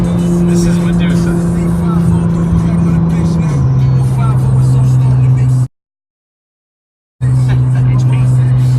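A Nissan GT-R on the move gives a steady, loud engine drone that drops in pitch as it shifts, with people talking over it and a brief gap of silence near the end.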